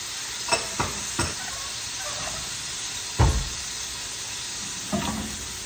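Food sizzles steadily in a hot pan, with several distinct scrapes and knocks from a utensil stirring it, one heavier clatter midway, all close and with no speech.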